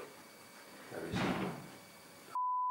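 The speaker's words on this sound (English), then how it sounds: "That was the door. Again. That's the door on the ground floor." A door on the ground floor of Pengersick Castle, a historic Cornish castle, swings and closes with a muffled, distant thud and brief rumble amid quiet room hiss, followed by an electronic tone.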